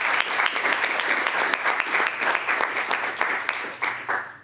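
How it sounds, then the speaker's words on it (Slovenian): Audience applause at an award ceremony presenting prizes from a Slovenian government office's competition, a dense, steady clapping from a room of people that fades toward the end, with no talking over it. "Lahko damo en aplavz."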